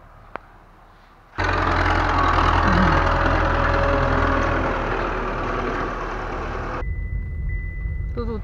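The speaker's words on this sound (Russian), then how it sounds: "Трактор поехал." A tractor engine starts up loud and close, running steadily for several seconds with a low rumble before easing down as it drives away, leaving quieter outdoor background.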